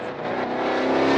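A race car on the Moss circuit during a 2023 MITS event accelerates with a loud, steady engine roar rising in pitch, close and continuous before cutting off abruptly.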